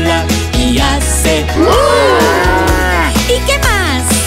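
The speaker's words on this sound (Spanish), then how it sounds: "Lola, la vaca Lola, tiene manchitas, tiene dos ojos, tiene cuernitos, tiene orejas, tiene cabeza y tiene cola y hace" A cow from a children's farm song gives long, sliding moos, several in a row, loud and near over a rhythmic musical backing.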